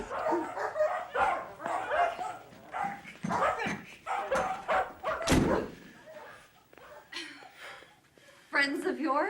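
Dogs bark, yip and whimper in a lively, irregular series of close calls, mixed with people talking over them.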